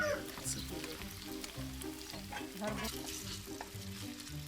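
Chopped onion sizzles steadily in homemade pork lard in a frying pan while being stirred, with scraping passes under a constant hum.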